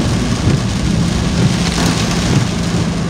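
Steady, dense downpour of heavy rain in Tinoc hammering surfaces, a constant loud roar with low rumbling underneath and no voices.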